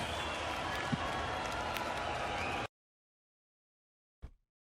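A concert crowd at a folk metal show cheers and applauds, a dense roar of clapping and voices that cuts off abruptly partway through, followed by silence and one brief thump.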